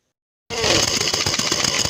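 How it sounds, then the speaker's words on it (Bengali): A machine tightens the wheel nut on a tractor tyre after a puncture repair, starting abruptly and then running as a loud, steady, buzzing mechanical whir close by. "মেশিনে টাইট দিচ্ছে দেখো।"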